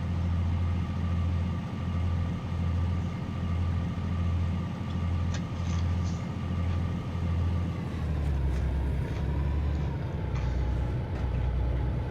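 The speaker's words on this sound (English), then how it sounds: "Thankfully, the Scorpion tank's engine sound is not nearly as obnoxious as the Warthog sound is in this game." Rumbling tank engine of the Scorpion in the video game Halo: Combat Evolved, a steady loud mechanical drone with a rhythmic low pulsing that shifts pitch near the end, heard alone without talk.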